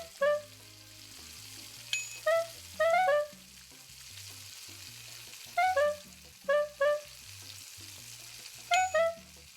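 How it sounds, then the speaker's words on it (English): A soft, steady sizzle of frying food in the game PlateUp! runs under light game music, broken by short tonal honks from customers that come in small clusters. "enjoy the sound of sizzling food and honking customers"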